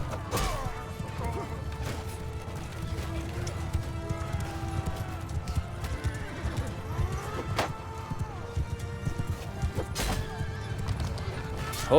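Horses whinny repeatedly over rapid galloping hoofbeats in the medieval battle game Mount & Blade II Bannerlord, with sharp weapon crashes and impacts cutting through the busy, close combat noise.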